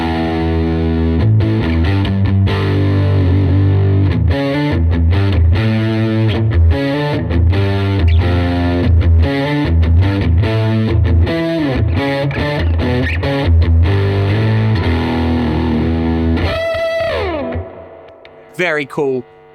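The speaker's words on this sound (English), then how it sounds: "Now with the P90, a little bit of distortion." A loud electric guitar, a Fender Jack White Triplecaster on its P90 pickup with mild distortion, plays a steady run of chords and notes, warm and gritty, ringing out and fading at the end.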